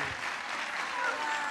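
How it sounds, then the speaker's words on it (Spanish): Studio audience on a Spanish-language TV talk show applauding as guests are welcomed, a steady dense wash of clapping that fills the whole moment at moderate level. "Vamos a darle un fuerte aplauso y la bienvenida"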